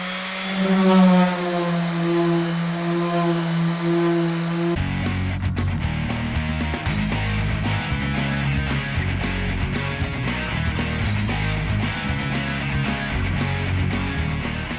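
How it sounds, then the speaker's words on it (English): A power sander working on the fender wells of a cargo trailer, a steady loud whine that shifts after a few seconds into a rougher, rumbling buzz with rapid pulsing as it moves over the surface. "Okay, both the Fender Wells are sanded."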